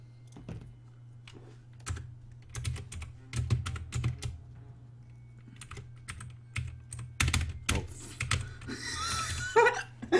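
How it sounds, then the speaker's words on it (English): Computer keyboard keys clack in irregular bursts and flurries, close and fairly loud, over a low steady hum, with a few other faint noises near the end. "By typing your name, I typed in something else."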